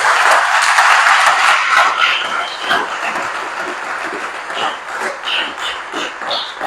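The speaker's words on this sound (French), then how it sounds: "est-ce qu'on peut acclamer le Seigneur?" A church congregation applauds and cheers to acclaim the Lord at the opening of a worship service, a dense, steady wash of clapping and voices that stays loud throughout.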